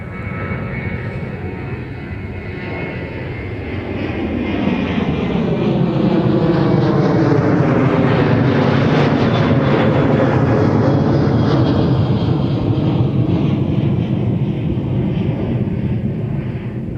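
A passenger airliner departs MSP airport, its engine roar swelling from a distance into a loud, sweeping pass with a clear pitch shift, then easing slightly as it climbs away, with no voices.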